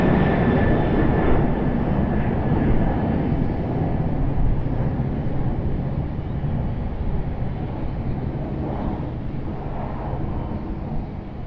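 Airliner bound for the Bahamas climbs steeply away from Raleigh-Durham airport, its jet engines a broad, sustained roar that slowly fades as it moves off into the distance.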